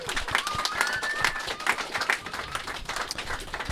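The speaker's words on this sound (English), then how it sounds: "A round of applause for Martin there." A live audience at a podcast recording claps in applause, a continuous mix of handclaps and crowd noise, with a faint voice and some whistling over it.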